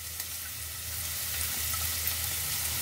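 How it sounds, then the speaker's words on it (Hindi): Chopped ginger, green chili and garlic sautéing in hot oil in a kadai, a steady bright sizzle and crackle running continuously at close range with no voices. "और इन्हें हम अच्छे से सौते कर लेंगे।"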